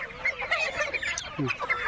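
Local chickens at a poultry farm cluck and call in a busy, overlapping stream of short bursts, fairly close and continuous throughout, with no talk.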